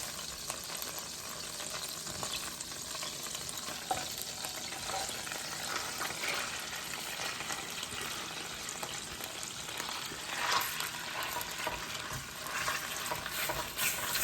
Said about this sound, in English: I'm going to saute my pork for about maybe 4 or 5 minutes.